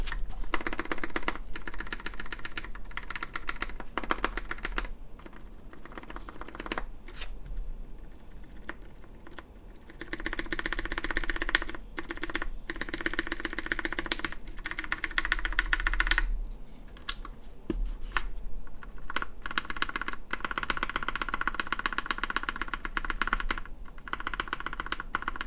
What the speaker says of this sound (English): Very lightly lubed MX Browns.